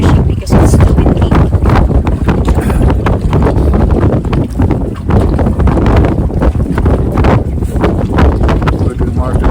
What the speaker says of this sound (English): the deck is shaking because of the wind